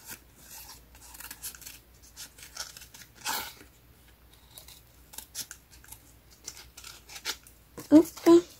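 Scissors cut the paper of an old planner being recycled into a children's comic album, with a series of close snips and rustles and a louder pair of cuts near the end, while someone speaks intermittently.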